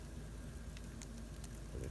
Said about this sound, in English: That sounds like a rain and sleet mix.